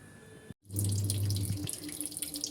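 Tap water gushes into a bucket while small items are washed, a close, strong steady pour that starts after a brief quiet gap and keeps splashing with light drips, with no talking.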